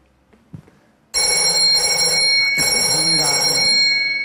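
A telephone bell rings loudly and continuously, close by, with a bright multi-tone trill beginning abruptly after a moment of near silence, on a Spanish afternoon radio call-in programme.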